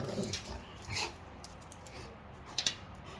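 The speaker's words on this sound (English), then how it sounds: "my dogs are a little rough sometimes" Rough play between dogs: short growls, whimpers and yips come in brief bursts near the start, around the one-second mark and again near the end, fairly faint over a quiet room background.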